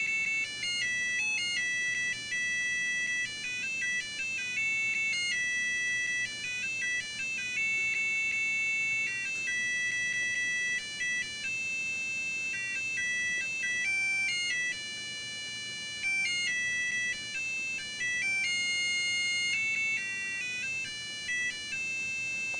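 Bright electronic melodies from the music mode of a LampTee 3D illusion lamp, a continuous chiming ringtone-like tune playing steadily for over twenty seconds with no talking.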